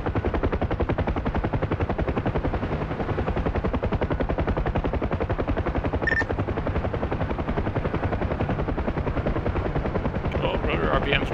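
A helicopter rotor in the video game Helo Ops thumps in a fast, relentless chop, loud and constant throughout, with a brief electronic warning tone partway through and faint talk underneath.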